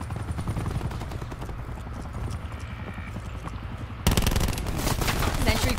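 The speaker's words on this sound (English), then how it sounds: "Sentry firing." An automated sentry gun fires in Call of Duty Black Ops 4 hardpoint play: game noise and faint chatter at first, then a loud burst of rapid gunfire near the end.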